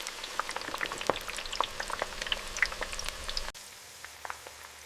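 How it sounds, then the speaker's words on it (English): Potato chip slices frying in an industrial factory fryer give a dense, steady crackle and sizzle of popping bubbles, which drops to a quieter, sparser bubbling near the end. "Slices enter the fryer and cook until they turn golden and crispy."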